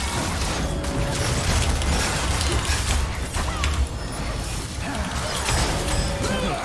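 Rapid gunfire and ability effects from League of Legends, the champion Samira in her High Noon skin, crackle and clatter densely and loudly throughout, with punchy impacts layered over a busy mix.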